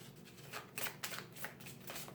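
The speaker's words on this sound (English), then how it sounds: "I just want to do one more, a couple more shuffles." Tarot cards are shuffled quietly up close, giving a soft, continuous papery riffle broken by a few sharper flicks and slaps as the deck is worked, with no talking.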